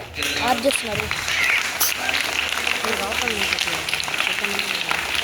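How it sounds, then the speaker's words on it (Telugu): An audience keeps up dense, steady applause during a felicitation at a school Republic Day celebration in Tirupati. People talk over it. "వాళ్ళు ప్రతి ఒక్కరూ వచ్చి ఇక్కడ నిలబడేంత వరకు మీరు క్లాప్స్ కొడుతూనే ఉంటారు"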